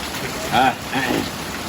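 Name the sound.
rain falling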